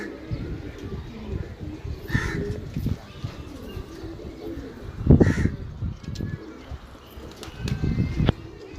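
Pigeons coo and flutter amid a busy, noisy bird market, with occasional louder bursts of wing flaps and bird calls and some background voices.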